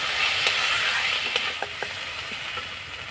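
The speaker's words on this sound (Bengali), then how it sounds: "টমেটো কুচিটা দিয়ে একটু হালকা করে নাড়াচাড়ানো করে নেব" Chopped tomato sizzles and fries in a pan while being stirred, a steady bright hiss close by with several light scraping knocks of the spoon against the pan.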